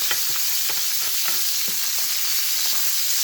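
Butter with garlic and fresh bay leaves sizzles steadily in a hot steak pan, with a constant frying hiss broken by soft scraping strokes as browned bits are worked up from the bottom.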